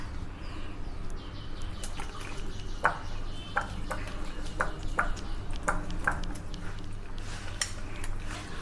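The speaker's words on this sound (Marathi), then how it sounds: "आता आपण व्यवस्थित फेटूया।" Batter of semolina and curd is whisked in a bowl, a spoon giving a run of light, irregular metallic clinks and taps over a soft steady background, with no speech.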